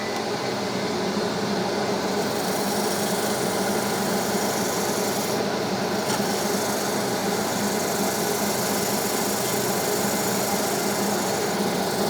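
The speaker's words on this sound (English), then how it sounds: "Let's go for a bit of fine sanding." Continuous fine sanding of a wooden bowl, a steady even rasp with a dense hiss that keeps going without pause, close to the microphone.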